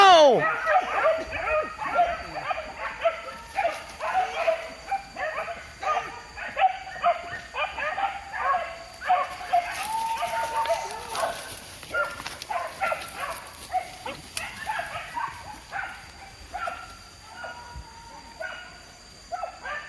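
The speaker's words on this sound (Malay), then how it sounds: "Sekedar anjing." Dogs at a wild boar hunt in Padang Tarok, Palembayan, bark, yip and whimper in quick repeated bursts for the whole stretch, fairly close, with people talking now and then among the yelps.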